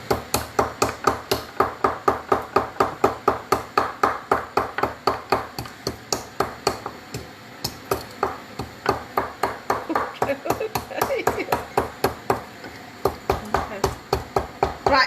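Cardamom pods crushed by hand in a home kitchen, a long run of sharp, regular knocks repeating roughly twice a second, loud and close, with a brief pause midway before the pounding resumes.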